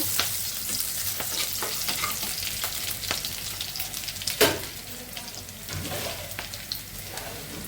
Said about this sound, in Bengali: পেঁয়াজ আর কাঁচামরিচ দিয়ে দিচ্ছি একটু ভাজা ভাজা হলে আমি মশলা দিব